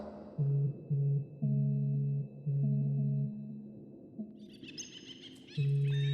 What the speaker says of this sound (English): Birds are beautiful.